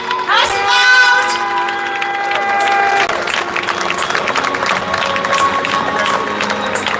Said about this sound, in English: Round of applause, please, everybody. Nice and loud.